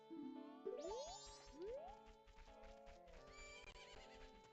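A horse in The Legend of Zelda: Majora's Mask gives a loud, rising whinny followed by a second neigh, with game music and faint hoof clatter behind and no talking.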